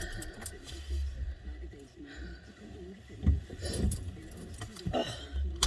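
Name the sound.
car keys jangling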